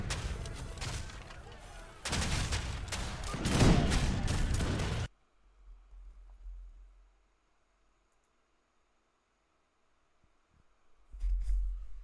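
Artillery and grenadier fire pound during a siege in the strategy game Age of Empires 3: loud, dense bursts of booming volleys, then near silence, then a final burst of fire.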